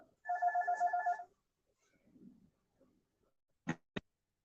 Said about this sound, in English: Phone ringing again